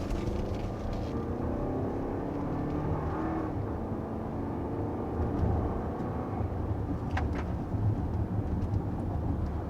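A 2023 Lexus RX 350 engine accelerates gently from inside the cabin, a smooth low drone with road and wind noise that swells slightly partway through, with no talking.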